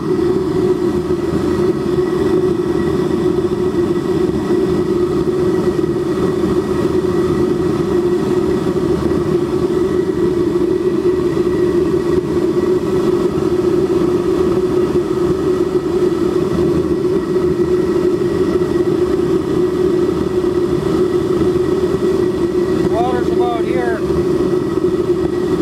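A steam engine fed with 128 oz of water runs on a test stand and shakes it, a loud, steady, rumbling mechanical drone that holds for the whole stretch. A voice is present faintly underneath.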